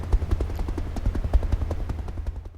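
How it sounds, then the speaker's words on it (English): Helicopter flying close by, rapid rhythmic rotor thumping with a low steady drone that fades out toward the end, heard alone without talk. "flying home in a helicopter is lots of fun"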